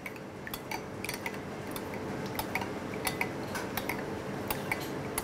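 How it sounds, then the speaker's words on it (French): A small spoon stirs a melted gelatin mixture for a foie gras and chestnut dish, giving soft, irregular light clinks and taps against the container, close by, with no talking. "Une petite cuillère pour bien mélanger."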